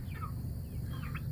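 Chickens on a ranch give a couple of soft, short clucking calls over a low background rumble during morning chores. The calls are faint and spaced apart.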